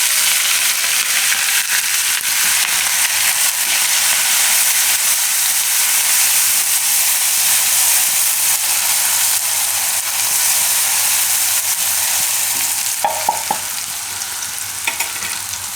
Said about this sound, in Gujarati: તો તેલમાં આપણે થોડું જીરું નાખીશું અને આદુ મરચાં ને લસણ